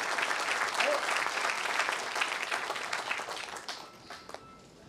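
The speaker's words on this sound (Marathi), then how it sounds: "प्रचंड टाळ्याच्या कडकडाटात आपण त्यांचं स्वागत करावं।" An audience at a Marathi literary award ceremony claps in loud, sustained applause welcoming the guests, fading out toward the end.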